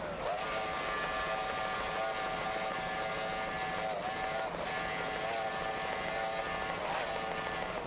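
A Mercury 2.4 outboard engine drives a racing powerboat in an offshore race, giving a steady high-pitched whine and roar that holds strong and even, with faint sweeps in pitch.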